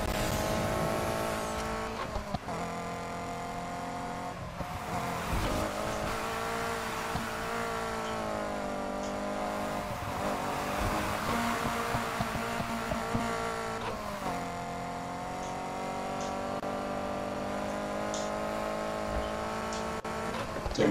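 Race cars in a Need for Speed Heat race, a sustained close engine drone with shifting pitch and periodic gear changes, tire noise and other cars around, continuous throughout with no talk.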